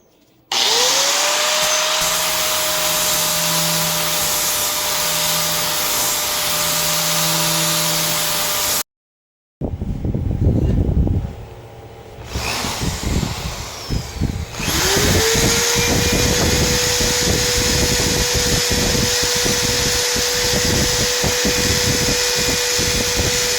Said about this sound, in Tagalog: so I will just clean the surface with this grinder